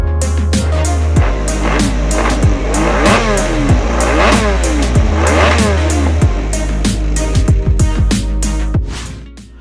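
A Honda RC211V MotoGP racing motorcycle with a V5 engine revs loudly and close, blipping the throttle again and again in sharp rising and falling bursts before cutting off.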